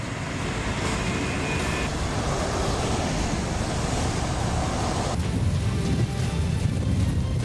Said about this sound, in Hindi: दिल्ली कैंट के कई इलाके और दक्षिणी दिल्ली के कई इलाके जहां पर तेज बारिश हुई।